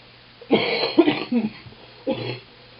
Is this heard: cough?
yes